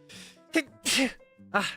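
A quick, sharp sneeze bursts out between stretches of a speaking voice, followed by more talk.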